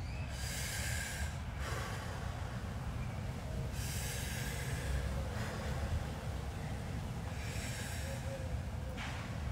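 Slow, deep breaths drawn in and let out during a fascia release exercise, a hand resting on the body; three long airy swells about four seconds apart, close and steady over a low constant rumble, no talking.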